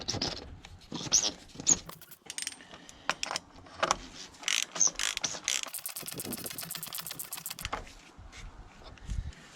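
Oil filter being refitted on a BMW E46 330i: close, quiet mechanical clicks, ratcheting and small metallic taps in irregular bursts, with brief rattles of tools and parts.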